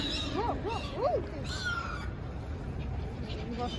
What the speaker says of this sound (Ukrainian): Та диви чайки.